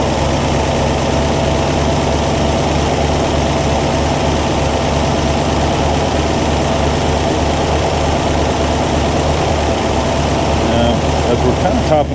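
Car engine idling during adjustment of the idle mixture screws, a loud, steady, close low rumble that holds continuously throughout, with speech faintly over it.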